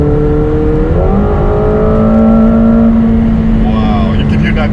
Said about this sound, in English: You can hear that turbo spooling.